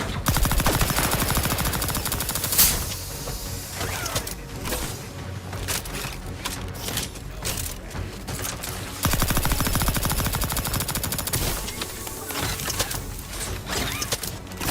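Heavy automatic gunfire from a big gun in The Outer Worlds 2, rapid sustained bursts that are loud and near, with short pauses between volleys.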